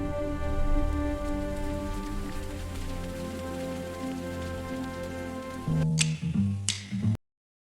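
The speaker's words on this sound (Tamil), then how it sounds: "இதோ மழை பெய்யுதுல" Steady rain pours onto surfaces in a constant, close hiss of drops, then shifts to a few heavier splashy bursts before cutting off abruptly into silence.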